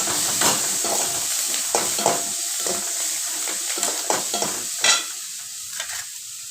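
Ingredients for kara kuzhipaniyaram being sautéed in a pan with salt, giving a steady close sizzle broken by repeated scraping stirs of a spoon, with no voices.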